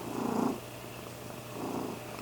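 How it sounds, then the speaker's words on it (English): A domestic cat purrs softly up close in two rumbling bursts separated by a short pause, with no talking. "Can you hear her purring?"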